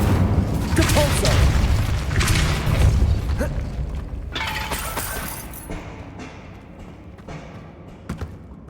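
A Depulso force spell cast in Hogwarts Legacy lands amid loud, busy combat, with heavy booms, shattering crashes and thuds over the first few seconds, easing into quieter impacts and a sharp knock near the end.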